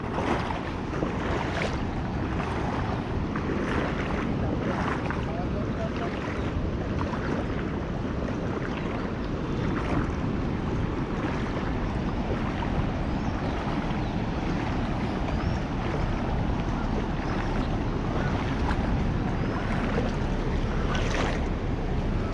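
Rising sea water and waves wash against the shore on a crab-catching outing, a loud, steady roar of surf with wind that runs throughout and has no voices.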